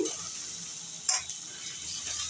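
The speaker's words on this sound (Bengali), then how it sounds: "এটাও গোল্ডেন করে ফ্রাই করব হালকা গোল্ডেন হয়েছে এরপর আমি দিয়ে দিচ্ছি পেঁয়াজ কুচি" Chopped onion fries in a pan with a soft, steady sizzle and a short stirring clatter partway through.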